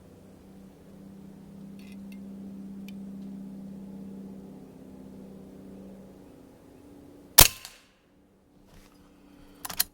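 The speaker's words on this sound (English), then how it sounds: "let's shoot them now and see what we got here." A Talon P air gun fires slugs at targets: after a low hum, a single loud sharp crack stands out near the end, followed by quiet and a faint second impact-like snap.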